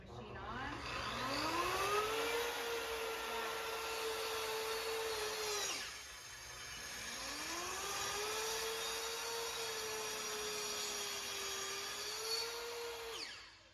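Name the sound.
track saw cutting material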